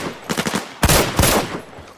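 Several rapid gunshots ring out in Arena Breakout, an early burst of close, sharp reports followed by two louder, heavier blasts, with no one talking over them.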